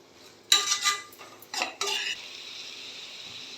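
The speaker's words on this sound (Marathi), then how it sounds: "भाज्या 2 ते 3 मिनटं परतून घ्यायचे." Mixed vegetables with tomato and a little salt are sautéed in a pan, with several clattering spoon-stirring scrapes in quick bursts followed by a soft continuous sizzle, close up and without voices.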